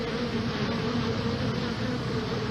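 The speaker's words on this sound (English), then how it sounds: "There were so many bees on the back of that ambulance." A dense swarm of bees hums on the back of an ambulance, a constant loud buzzing drone close by with no pauses.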